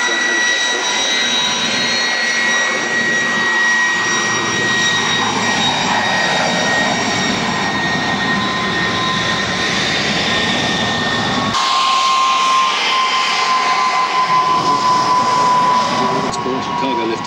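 A Westland Puma helicopter hovering at a Duxford air show, a loud, steady turbine whine and rotor drone with sustained high tones, shifting abruptly partway through.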